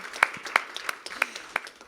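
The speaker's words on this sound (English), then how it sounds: "That deserves a round of applause." Scattered applause from an audience at a boxing press conference for the Kings Clash event, a handful of sharp claps ringing out unevenly over a low room murmur.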